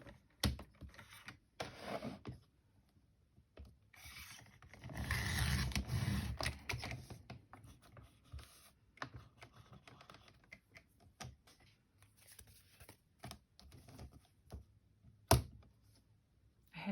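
Scissors trim a sewn, punched lace-covered envelope pocket at close range. Quiet, irregular snips and paper rustles come in small clusters, with one busier stretch of cutting.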